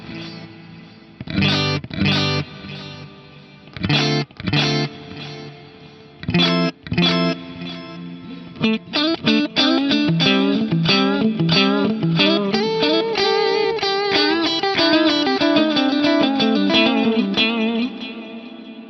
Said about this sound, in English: So my delays are very upfront in this case, and the reverb is a subtle wash.